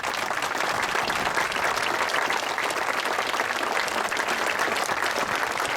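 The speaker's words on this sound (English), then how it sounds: "They deserve a special applause." A crowd at an outdoor Memorial Day ceremony at a veterans memorial applauds the families of fallen service members, dense, continuous clapping throughout with no voices.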